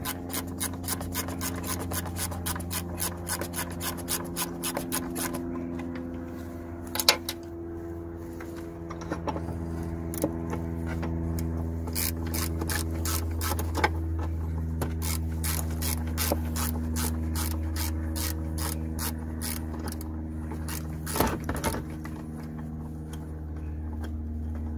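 Ratchet wrench clicking as 10 mm bolts are loosened on a BMW air filter box, rapid mechanical ticking in repeated bursts with short pauses, close, over a steady low hum.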